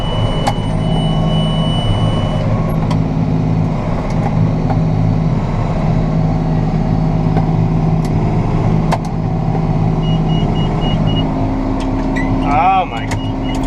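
A tractor engine runs steadily at night during baling, a close, continuous low rumble with a faint whine, while someone talks over it and occasional clunks sound.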